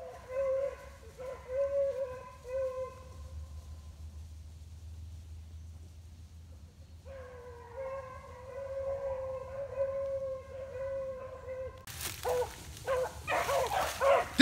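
Hunting hounds chase a rabbit through swampy country, their long, drawn-out baying carrying from a distance in sustained overlapping howls, with a low engine rumble and a sharper burst of noise near the end.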